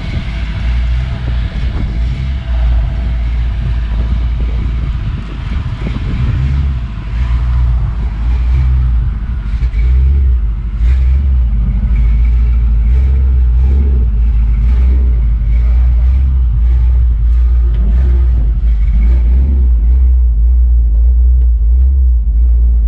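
A car engine idles and revs nearby while vehicles, including a 1952 Ford F1 half-ton pickup, are moved on a property, giving a heavy low rumble with rising revs and throttle blips, fading at the end, faint voices beneath.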